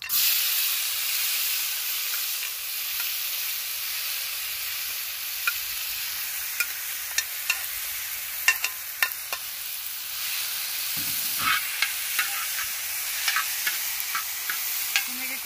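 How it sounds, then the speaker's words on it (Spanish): Onion, tomato, chile and cilantro sautéing in a little oil on a disco griddle give a steady close sizzling hiss, broken by scattered sharp clicks and scrapes of stirring, with no talking. "guisar la verdura con poquito aceite nada más"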